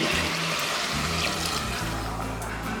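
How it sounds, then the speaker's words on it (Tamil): Water poured generously over rice in a cooking pot, a steady continuous rushing splash that stays close and even for the whole stretch, with no talking. "அரிசி எல்லாத்தையும் போட்டு ரெண்டு கிளறி கிளறி விட்டு தாராளமாக தண்ணியை ஊற்றி"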